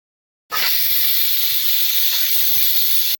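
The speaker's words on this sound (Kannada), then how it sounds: "ಇದಕ್ಕೆ 3 ವಿಷಲ್ ಬಂದರೆ ಸಾಕಾಗತ್ತೆ." A kitchen pressure cooker cooking pulao lets off its whistle, a loud, sustained hiss of escaping steam that starts abruptly and holds steady for nearly three seconds before cutting off.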